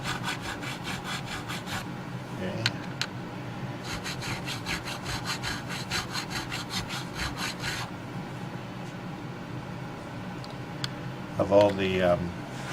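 Guitar frets on a Mexican Stratocaster being dressed with 150-grit abrasive, steady back-and-forth rasping strokes in rhythmic bursts, close and fairly quiet, with people talking at times.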